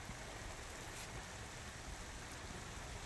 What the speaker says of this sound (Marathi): रायगड जिल्ह्याला सुद्धा आता जोरदार पावसाला सुरुवात झाली आहे